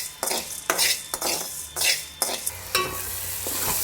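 A spoon repeatedly scrapes a pan as salt and chili powder are stirred through hot frying oil, the strokes coming in a steady rhythm over a soft continuous sizzle.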